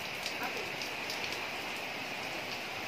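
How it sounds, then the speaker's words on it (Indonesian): Steady rain during the rainy season in Lamongan, Indonesia, patters softly and continuously, a faint even hiss with scattered drops. "Jadi hujan, guys."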